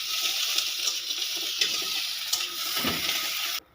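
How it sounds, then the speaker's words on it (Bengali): Onions frying in oil in a home kitchen pan, a steady close sizzle with stirring scrapes for several seconds before it cuts off abruptly. "কি করবো এগুলো তেল দিয়া? পেঁয়াজ ভাজবো?"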